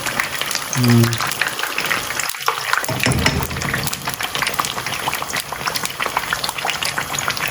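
Fish fillets frying in hot oil in a pan while the second batch is flipped, a steady close sizzle with a brief clatter and splash partway through, and a voice speaking briefly.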